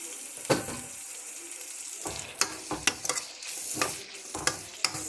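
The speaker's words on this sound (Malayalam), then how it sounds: "ഇത് നല്ലതുപോലെ എണ്ണയ്ക്കകത്ത് കിടന്ന് നല്ലതുപോലെ വേവട്ടെ." Tomatoes, green chilies and curry leaves fry in hot oil with a steady sizzle, broken by several sharp scrapes and clatters of a spoon stirring the pan, with no talking.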